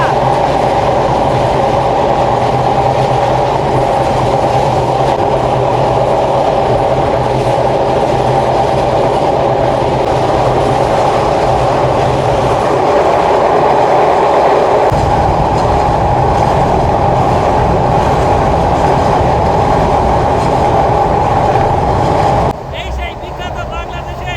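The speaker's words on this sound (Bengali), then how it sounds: "এখন আমাদের ট্রেন পদ্মা সেতুর ওপর দিয়ে যাচ্ছে" A train rumbles along steadily with a constant loud roar and rattling, its tone shifting partway through as if moving onto a different span, crossing the Padma Bridge in Bangladesh.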